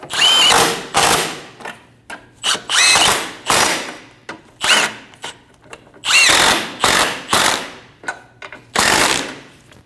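A power tool spins down the three nuts on a front lower control arm of a 2012-2022 Volkswagen Passat, loud whirring bursts of about a second each separated by short pauses, close and alone.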